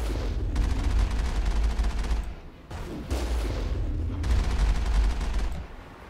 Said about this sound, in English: I'm already getting fired at from over here.